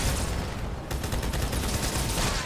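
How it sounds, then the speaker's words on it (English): Heavy sustained gunfire in Halo: The Master Chief Collection, a loud dense stream of shots with a brief lull near the start before the firing resumes. "someone's shooting at me"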